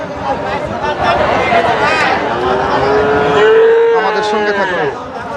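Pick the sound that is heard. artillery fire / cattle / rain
cattle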